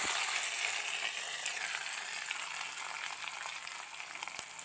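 Hot tempering for a Kerala beetroot pachadi sizzles as it is poured over beetroot: a loud, bright, hissing crackle right at the start that slowly eases off while it keeps sputtering, with no voices.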